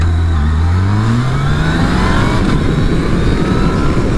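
Motorcycle engine with a quick shifter, rising in pitch under throttle and then shifting up, loud and close with a steady roar of wind and road noise throughout.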